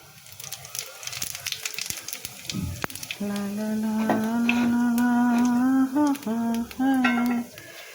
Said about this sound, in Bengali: তেল গরম হয়ে গিয়েছে জিরে দিলাম